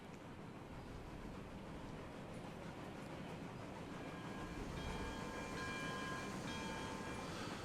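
Train in the Railroads Online video game rolling over a track switch at night, a continuous low rumble with faint clicking and squealing tones rising in the second half, no voices.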